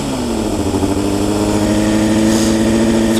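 A 2013 Honda CBR600F sport motorcycle fitted with a Black Widow exhaust, baffle in, idles close and loud, then its revs rise gradually in a steady, even drone with no talking.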